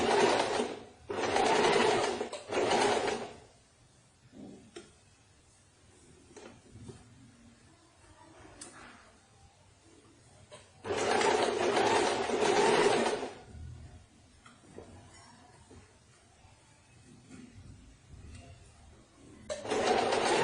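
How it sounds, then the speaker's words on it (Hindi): A sewing machine stitching a princess cut blouse runs in loud close bursts, several short runs early on and a longer run in the middle, separated by quieter pauses with faint handling sounds. "स्टिच लेते जाएंगे। ध्यान रखिए कि यहाँ पर कोई सिलवट वगैरह ना आए।"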